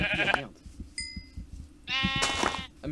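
Sheep in the Minecraft video game bleat in several clear, nasal calls: a short one, a brief high one, then a longer wavering bleat, all close and loud over a soft game background.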